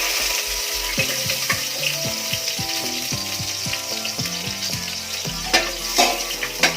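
Garlic and ginger sautéing in a pan with a steady broadband sizzle throughout, under music with low notes and clear tonal lines; a few brief scraping clatters stand out near the end.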